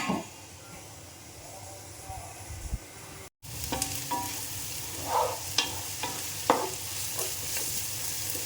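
Sliced onions with a little salt sautéing in a pot for beef biryani, a steady moderate sizzle broken by a brief gap, then stirring scrapes and clinks over the frying.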